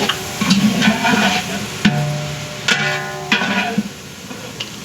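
Tempering for a masala rice in a large catering pot crackles and sizzles with stirring scrapes, close and fairly loud, with sharp clanks at intervals.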